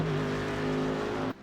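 In the iRacing sim, a DP prototype race car engine roars loudly past with a steady high-pitched drone that cuts off abruptly near the end.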